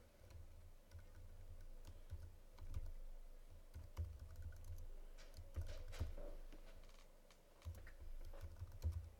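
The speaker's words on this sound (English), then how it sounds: "I can start typing in names here." Steady typing on a computer keyboard, a dense run of quick key clicks with a few louder taps, close by, with no talking.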